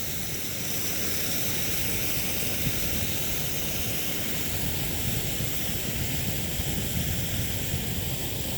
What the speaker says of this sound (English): There's a big fuck-up water fountain over there. I don't know if you can hear it.